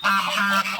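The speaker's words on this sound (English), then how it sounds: "angry geese." Angry geese guarding their nest give a loud, close, continuous nasal honk that wavers slightly, heard alone with no talking.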